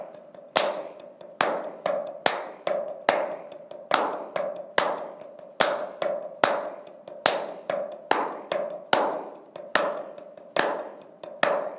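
Crisp hand claps repeat in a steady, even pulse for about twelve seconds, clapped along to a sixteenth-note drum pattern. Each clap is sharp and close with a short ringing decay, and no one speaks.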